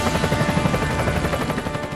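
Russian Mi-28NE Havoc and Ka-52 Hokum-B combat helicopters give a loud, close, continuous rotor thumping with rapid steady beats over a dense engine roar.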